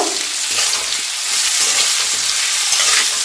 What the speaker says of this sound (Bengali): নুনটা দিয়ে আলুটাকে সুন্দর করে মিশিয়ে নেব।